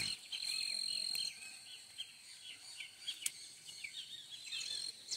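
Small birds chirp and trill in short bursts outdoors, with a steady high insect-like whine at the start, moderately faint and no talking.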